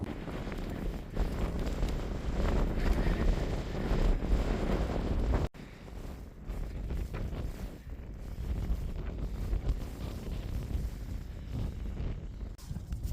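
Wind gusts roar and buffet the microphone on a foggy Dartmoor tor, Great Staple Tor, as a steady, loud rush with no talk.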